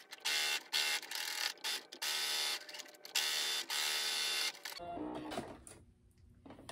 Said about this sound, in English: I'm gonna flip it over, stitch it on the other side, just to reinforce my stitches